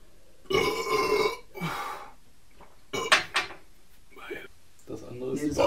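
Several loud, drawn-out burps follow one another with short gaps, some long and rumbling, others brief and sharp, during a German drink tasting of ginger lemonade, with voices and laughter between them.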